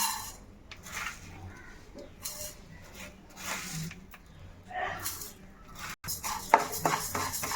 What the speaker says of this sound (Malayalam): അപ്പോൾ നമുക്ക് ഈ അരി ഒന്ന് വറുത്തെടുക്കാവേ അരി വറക്കാനുള്ള ചട്ടിയാണ് അടുപ്പത്ത് വെച്ചിരിക്കുന്നത്